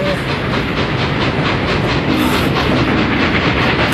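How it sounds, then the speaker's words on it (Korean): Train running on rails, a dense continuous rumble with rhythmic clacking and hiss, loud and steady throughout. "기차가 와요!"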